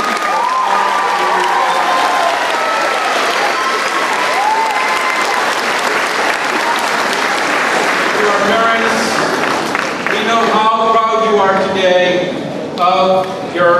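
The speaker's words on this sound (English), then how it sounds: "let's give our teachers a big round of applause" Loud, sustained applause from a ceremony audience at a graduation celebration honoring teachers, broad dense clapping filling the whole stretch, with cheering voices and a speaker's amplified talk emerging toward the end.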